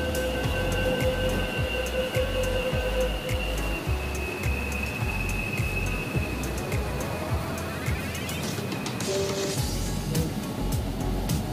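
A Kolkata metro train runs past toward Sealdah, its steady rumble and rhythmic wheel clatter filling the platform, with whining motor tones rising and falling as it goes by.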